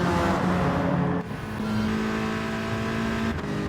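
Race car engine in GT Sport accelerating hard, a steady loud drone with a rising pitch that dips briefly around one second in, then climbs again with no talking.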